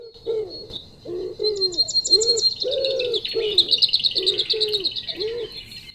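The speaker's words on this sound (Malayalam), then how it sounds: "പക്ഷികൾ ഈ ഭൂമിയുടെ പ്രകൃതിയുടെ ചുറ്റുപാടിൻ്റെ ശബ്ദങ്ങളാണ്" Wild birds, including parakeets, call together outdoors in a steady mix of repeated low cooing notes and bright, rapid chirps and trills, fairly close and continuous with no talking.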